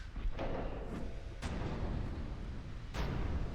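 Heavy naval guns from a tall battleship firing in Ultimate Admiral Dreadnoughts, three booming blasts spaced about a second and a half apart, each a sharp crack trailing into a low rumble over steady background noise.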